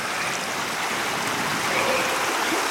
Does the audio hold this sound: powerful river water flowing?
yes